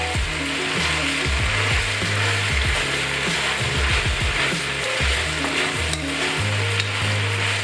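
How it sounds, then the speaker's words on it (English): Green vegetables for a cheesy pasta sizzle loudly in a hot pan while being stirred. A dense frying hiss runs throughout, with repeated rhythmic scraping and clattering strokes from the stirring. "Give it another quick stir."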